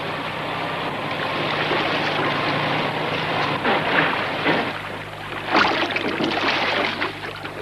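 A motorboat engine runs steadily out on open water, a continuous low drone with water wash and wind noise that holds at moderate loudness, with the engine tone shifting partway through.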